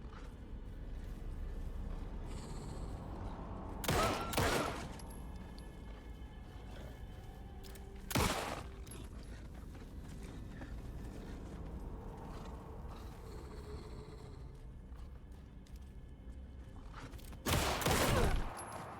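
Gunfire from shooting at enemies in the video game Alan Wake 2: three loud, sharp shot bursts spaced several seconds apart over a low, creaking ambient game soundscape, with no talking.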